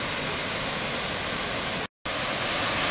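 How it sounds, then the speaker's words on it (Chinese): Waterfall at Jingpo Lake in Heilongjiang, a steady broadband roar of falling water, loud and continuous with a brief dropout near the end. "跟住嗰邊就係瀑布啦"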